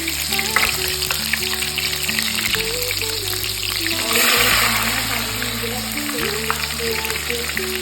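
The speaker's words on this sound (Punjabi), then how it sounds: "ਥੋੜੇ ਜਿਹੇ ਜਿਹੜੇ ਕਰੇਲੇ ਆ ਉਹ ਫਰਾਈ ਕਰ ਲਏ ਸੀਗੇ ਤੇ ਜਿਹੜੇ ਰੈਸਟ ਬਚੇ ਆ ਉਹ ਵੀ ਆਪਾਂ ਹੁਣ ਪਾ ਦਿੰਦੇ ਹਾਂ ਤੜਕੇ ਦੇ ਵਿੱਚ" Bitter gourds (karela) fry in hot oil tempering with a loud, continuous sizzle and crackle over a steady low background hum, swelling briefly midway as more gourds are added.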